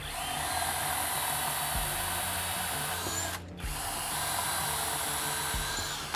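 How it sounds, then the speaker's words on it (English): Power drill boring holes down through the ends of wooden boards, a loud continuous high whir that runs steadily, stops briefly midway, then resumes for a second long pass. "And then I'll drill holes down through the ends."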